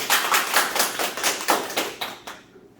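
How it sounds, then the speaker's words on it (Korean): Audience at a lecture claps in a steady unison rhythm, about ten sharp, evenly spaced beats, close and loud, before stopping abruptly. "박수 한번 주십시오"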